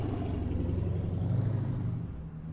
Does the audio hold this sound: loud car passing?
yes